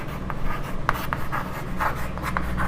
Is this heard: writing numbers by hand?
yes